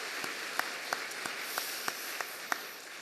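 A church congregation applauds its elders during a Sunday morning worship service, a steady wash of clapping with a few sharp, distinct claps standing out.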